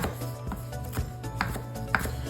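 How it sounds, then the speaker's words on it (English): Knife rough chopping fresh cilantro on a cutting board for a spicy chicken tortilla soup garnish, a few irregular close taps and thuds over a low kitchen hum. "we're just gonna rough chop our cilantro"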